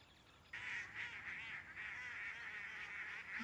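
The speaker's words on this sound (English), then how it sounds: "Bringing the ducks back on this." Ducks quack in a continuous, fairly loud run of calls during a TV drama scene, with no talk over them.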